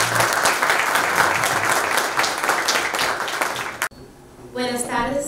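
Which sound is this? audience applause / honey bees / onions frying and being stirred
audience applause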